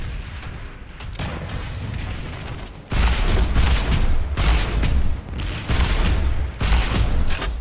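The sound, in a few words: gunfire from video game PlanetSide 2 MAX unit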